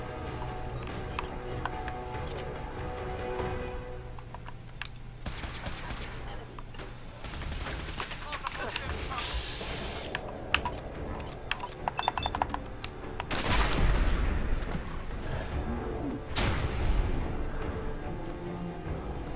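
Institute pistol fire in the Fallout 4 video game: rapid, crackling laser-gun shots arrive in uneven bursts amid game combat noise, growing louder and denser toward the end.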